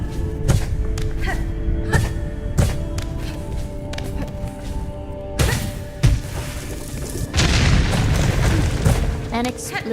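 Explosion in the video game Silksong: deep booming bursts and thuds hit in quick succession over a dense, continuous game soundscape, with one heavier blast near the end.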